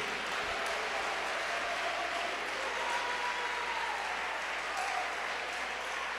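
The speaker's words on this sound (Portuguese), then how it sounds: "Diga glória a Deus e vamos aplaudir mais." Steady applause from a large church congregation, continuous clapping that fills the space evenly without pause, fairly loud throughout.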